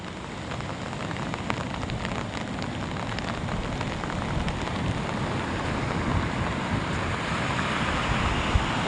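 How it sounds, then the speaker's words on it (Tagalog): Heavy rain pours down steadily in a dense, continuous wash, drops drumming on surfaces close by with no voices, the downpour loud and unbroken throughout. "Oh, lakas ng ulan."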